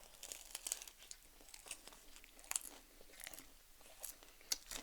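Eating homemade samsa with tea: close, quiet chewing and crunchy bites of pastry with soft crinkling, irregular mouth sounds and no talking.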